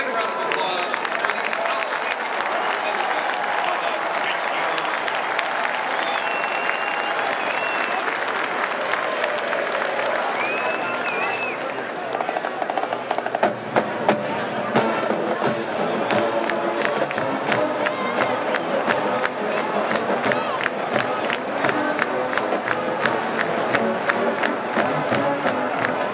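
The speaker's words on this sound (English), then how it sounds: "Let's have a big round of applause." Stadium crowd applauding during pregame at Ohio State vs. Michigan State, a dense sustained wash of clapping and cheering that becomes sharper and more rhythmic about halfway through.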